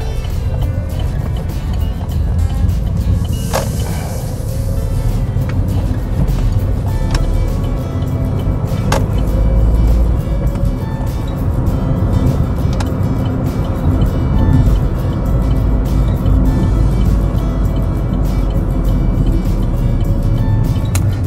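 A car pulls away from a stop during a road driving test, with a steady low engine rumble and road noise close by and a few faint clicks inside the cabin.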